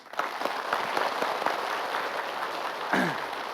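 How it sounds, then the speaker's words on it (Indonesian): An audience gives steady applause, a dense patter of many hands clapping that holds evenly for several seconds with a brief voice near the end. "tepuk tangan."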